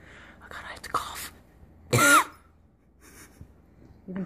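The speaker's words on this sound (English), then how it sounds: "Oh god, I have to cough." A single sharp, harsh cough bursts out up close, surrounded by quiet breathing and faint murmured sounds.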